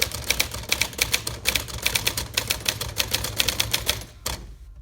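Typing on a 1956 Smith Corona Silent Super typewriter produces a fast run of crisp, close keystrikes in uneven bursts, followed near the end by a heavier mechanical clack before it goes quiet.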